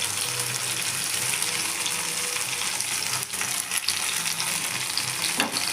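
Raw banana slices coated in masala shallow-fry in oil with curry leaves on a dosa pan, giving a steady, close sizzle throughout with a few brief clinks and bumps and no voices.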